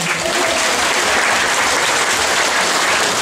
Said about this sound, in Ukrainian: Ваші овації